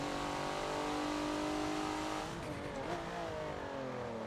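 Race car engine in Forza at the Homestead Super Mini track, droning steadily at high revs with rising and falling harmonics as it shifts and changes pitch midway through a quick lap, loud and continuous with no talk.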